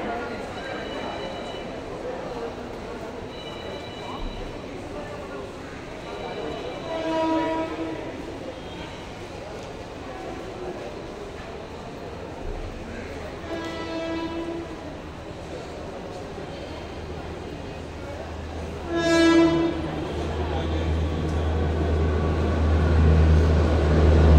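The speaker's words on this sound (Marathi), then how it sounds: "एक जलद गाडी जाणार आहे" A fast train runs through Dombivli station in Mumbai, its long rumble steadily building as it nears, with horn blasts sounding at intervals above the crowd noise and chatter on the platform.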